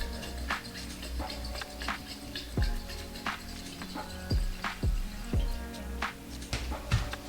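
Water splashes and drips while a glass piece is rinsed out, with irregular droplet taps and small trickles over a steady faint hum, fairly close and moderate in level.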